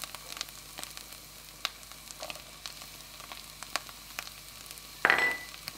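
Onion dropped into hot oil for a vegan stroganoff with mushrooms, a soft steady sizzle under scattered small crackles, then a brief louder hiss and clatter near the end, no voices.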